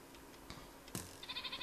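A goat bleats faintly in the Minecraft video game, a short wavering call over a quiet background of ambient game noise.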